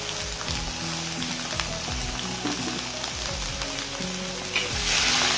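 Cured fish stir-fried with oyster sauce in a hot wok sizzles steadily, with scraping spatula strokes and tossing sounds repeating throughout, close and fairly loud, no talk.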